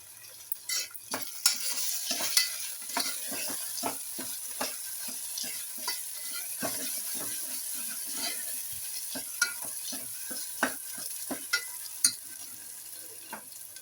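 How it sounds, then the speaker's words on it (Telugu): Chopped tomatoes frying in a pan for a brinjal, drumstick and potato curry, a continuous bright sizzle with frequent quick stirring scrapes and taps throughout, close-up and fairly steady, without any voices. "టమాటోస్ కట్ చేసుకున్నాం కదా, ఇవి వేసేసుకుందాం."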